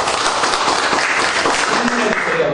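A group applauds after a Bible study presentation, with close clapping that mixes with voices talking over it.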